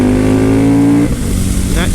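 KTM Super Duke motorcycle with a performance exhaust, engine held at a loud steady rev up close, then dropping off abruptly.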